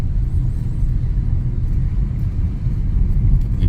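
Engine of a Kia Sonet LX with automatic transmission, held in second gear while descending a hill, a steady low rumbling drone that stays loud and constant with no voices.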